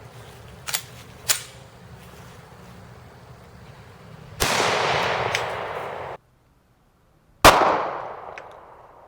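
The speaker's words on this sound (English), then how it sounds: "we're going to try the 40 Smith & Wesson. This is coming out of a Springfield XD." .40 Smith & Wesson rounds fired from a Springfield XD pistol at firehose body armor: two loud, sharp reports with long decaying rings, preceded by two smaller clicks.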